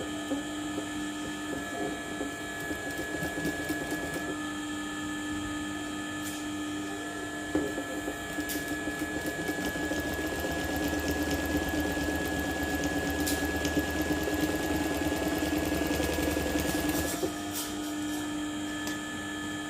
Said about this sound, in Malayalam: അടിഭാഗം അതേ പൊസിഷനിൽ വെച്ച് നമുക്ക് സ്റ്റിച്ച് ചെയ്തെടുക്കാം